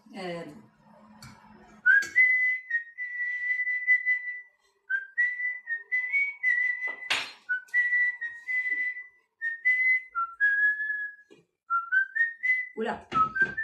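A person whistles a melody, a clear, close tune of held and sliding notes in phrases separated by short breaths, with brief voice sounds at the start and end.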